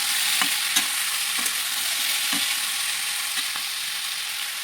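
Potato slices with salt and turmeric frying in a pan, a loud, steady close sizzle broken by several regular scrapes of stirring, with no voices.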